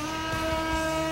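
Nitro engine of a Nitro Hammer RC boat running at peak tune, a steady, high, buzzing whine with strong even harmonics, held continuously and fairly close throughout.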